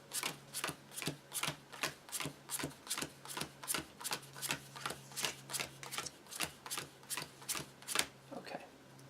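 A deck of playing cards for a board game is shuffled in a steady rhythm of about twenty quick riffle bursts, close and crisp, with a faint hum underneath and no talk.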